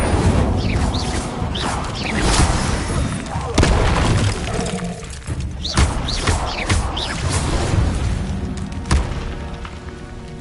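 Incendio fire spell cast in Hogwarts Legacy, part of a rapid string of spell impacts: booming thuds and crackling bursts, loud and busy, with other spell effects and game noise around it.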